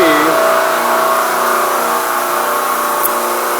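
A cooling tower fan motor driven by a VFD at 23 hertz, about one-third speed, makes a loud, steady mechanical drone with a constant hum that holds evenly throughout.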